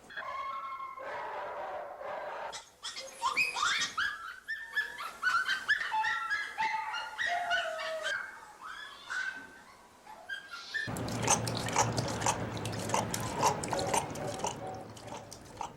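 Dogs at an animal shelter bark, yip and whimper in a busy overlapping chorus, clear and fairly close, with a louder, denser burst of barking toward the end over a low hum.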